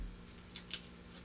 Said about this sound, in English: that's what scissors are for